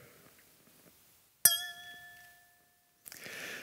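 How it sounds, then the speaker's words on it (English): A glass of water tapped once, giving a single bright clink that rings on as a clear sustained tone for about a second before fading, followed by a short rustle. "So let's take, for example, this glass of water here."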